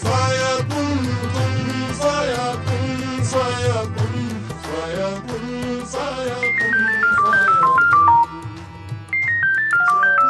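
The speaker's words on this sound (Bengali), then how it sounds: "কি রে, রেদান ফোন দিল এই টাইমে?" A mobile phone rings for an incoming call with a melodic ringtone tune that plays loudly and continuously, its notes stepping up and down without pause.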